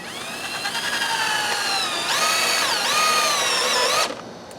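Power drill driving self-tapping screws into the frame of a chicken and quail pen built from a trampoline: a steady high motor whine that rises in pitch partway through, then cuts off abruptly, loud and close.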